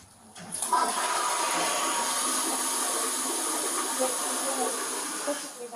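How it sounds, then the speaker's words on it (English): A toilet flushing indoors during a tense police encounter with an evicted tenant, a sustained rushing, hissing surge of water that starts abruptly and runs steadily for several seconds, loud and close. "Who told her to flush anything?"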